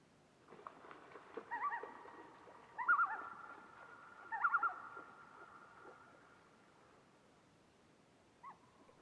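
A sound rings out and echoes across a wilderness lake, long tonal calls sustaining and fading slowly in the wide space, faint and distant, with a soft final note after a quiet gap.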